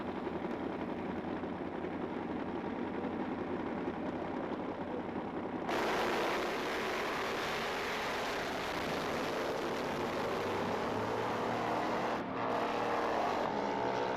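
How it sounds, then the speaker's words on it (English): Drag racing motorcycles at an AHDRA Indy Nationals event at IRP roar at steady full throttle, with a sharp surge around the midpoint and a brief dip and stutter in the engine note near the end. "you can hear a quick bobble of the throttle there"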